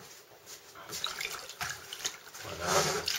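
Sea water is poured into a bowl for bread dough, a close splashing trickle that swells toward the end, with kitchen handling noise and a voice talking over it.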